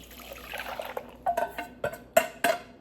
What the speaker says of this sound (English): You're gonna pour all of this right back into the pot.